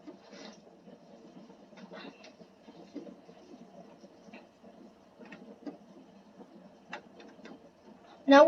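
Class 357 commuter train pulling away from a station in a Roblox railway game, heard as a faint, steady low rumble with scattered light clicks and a brief louder burst at the very end.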